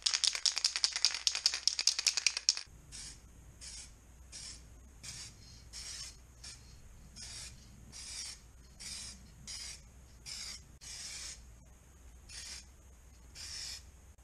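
A spray paint can is shaken hard, its mixing ball rattling rapidly for a couple of seconds, then sprayed in a steady series of short hissing bursts about once a second while painting corner triangles and a bulkhead to match.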